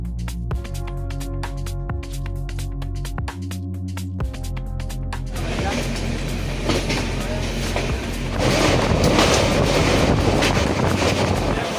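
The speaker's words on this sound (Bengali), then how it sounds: "ঠিক 10:55তেই ট্রেন ছেড়ে দিল" A passenger train running on the Sealdah to Sasaram route: a steady tonal hum gives way to broad, constant rumble and wind buffeting that gets louder and rougher in the final seconds.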